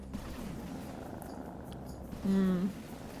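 A brief, soft purring rumble rises out of quiet background noise in the game Hades for about half a second near the end.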